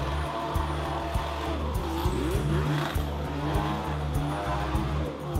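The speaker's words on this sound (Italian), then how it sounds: "Un'occasione unica per sentire il sound di una moderna Formula 1 ibrida in questo tipo di manovre a gas" A modern Mercedes hybrid Formula 1 car spins donuts at full throttle at a Mercedes track event, giving a steady, unbroken engine roar mixed with tire squeal, fairly loud and without talk.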